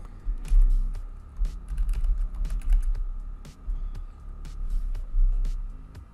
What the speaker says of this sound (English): let me type one password.